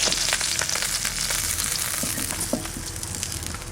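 River fish frying in hot oil, a loud, continuous crackling sizzle heard close, with scattered pops and a few clinks.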